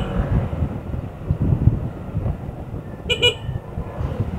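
The stock horn of a QJ ATR 160 motorcycle gives a short thin double toot, two quick beeps near the end amid outdoor wind noise.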